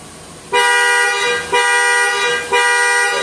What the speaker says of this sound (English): The next thing is the panic alarm.